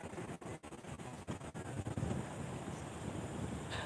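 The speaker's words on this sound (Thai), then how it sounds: "ลมบรรยากาศเฟี้ยวมาก" Wind blows outdoors beside a river and buffets the microphone with a loud, steady rush. A few brief dips break it near the start, then it swells and stays constant.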